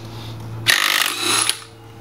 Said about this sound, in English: I'm just going to use an impact here and rattle it off.